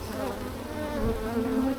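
Honey bees buzz steadily at an open hive in a queenless colony, a dense, continuous drone that is close and even throughout with no talk over it.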